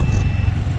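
A Honda Dio scooter's turn signal buzzer gives a brief steady beep inside its buzzer box, over a low idling engine rumble.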